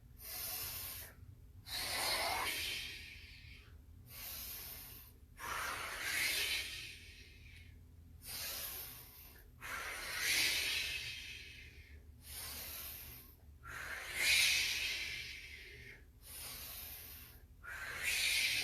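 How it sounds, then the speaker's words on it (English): Deep, forceful breathing exercises: a series of about seven long, close, whooshing breaths in and out, each separated by short pauses, with no talking. "those breathing exercises allow you to go ahead and move that oxygen through"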